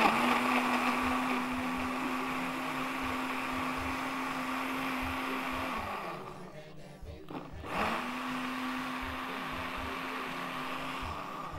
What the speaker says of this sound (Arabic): يلا طب يلا بينا نشغل الخلاط